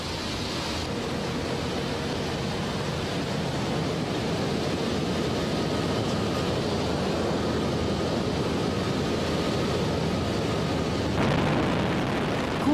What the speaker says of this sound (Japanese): 振動と爆音の中でサンテグジュペリが受けた風を同じように味わいます